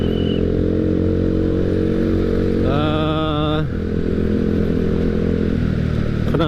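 A carburetor motorcycle engine runs at a steady idle with a close, continuous low rumble. Midway through, a brief clattering whine rises over it, and no one speaks.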